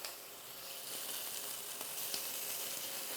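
Quail breast sizzling as it sears skin side down in a hot restaurant pan, a steady close frying hiss with faint crackles and no talking.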